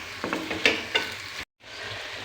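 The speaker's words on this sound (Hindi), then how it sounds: "ये हमारा प्याज फ्राई हो गया।" Onions fry in a pan for mutton liver, a steady close sizzle broken by a few scraping stirs, with a brief cut to silence before the frying resumes.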